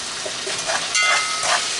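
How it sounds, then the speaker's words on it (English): Sazon seasoning with cilantro and achiote being stirred in a frying pot, producing a steady broadband sizzle and hiss with soft scraping swells, close and moderately loud, no talking. "And we are going to give this a stir"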